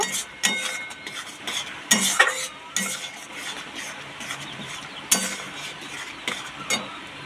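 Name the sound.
stirring garam masala into chili jackfruit pickle in a pan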